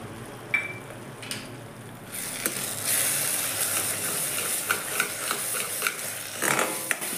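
Onion-tomato masala for masala matar paneer sizzles in hot oil in a pan while a spoon stirs and scrapes through it. A steady close hiss rises after a quieter start, broken by clinks of the spoon.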